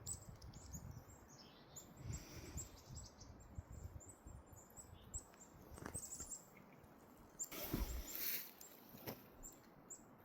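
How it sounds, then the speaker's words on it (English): Birds call in the woods: scattered, faint, high chirps and tweets over soft rustling and patter, with no one speaking. "There's a lot of cool birds around."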